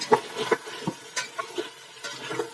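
Spiced fish and eggplant being stir-fried in a pan, with irregular spatula scrapes and clinks against the metal over a light, quiet sizzle.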